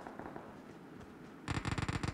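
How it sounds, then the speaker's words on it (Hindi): Rapid burst of gunfire in a Hindi-speaking online battle royale style shooter match, a quick rattling volley near the end after a quieter stretch of game ambience. "गोली चल रही यहीं मेरे बगल में."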